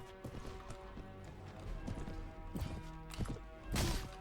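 Hooves clatter in an uneven rhythm as several cavalry horses charge in the video game Mount & Blade: Warband, with thuds and clanks over a low steady hum.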